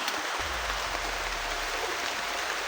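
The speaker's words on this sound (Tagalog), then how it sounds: "Si Antol, napakalakas ng ulan." Very heavy rain pours down steadily and loudly, a dense continuous hiss close by with a low rumble underneath and no voices.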